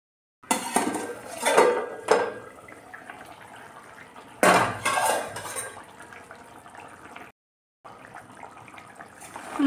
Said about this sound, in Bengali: এবার ঢাকনা দিয়ে ঢেকে দেব।